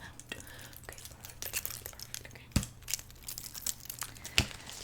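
Floral foliage being trimmed and handled up close, with crinkling, rustling and sharp snipping clicks in an irregular pattern, faint hums beneath and no clear talk.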